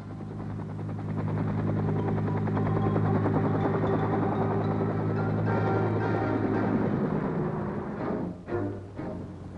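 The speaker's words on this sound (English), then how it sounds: "Dust Off is the affectionate code name for the medical evacuation helicopters" Military medical evacuation helicopter in the Vietnam War, its rotor and engine thrumming steadily at moderate distance, a sustained pulsing drone that dips slightly near the end.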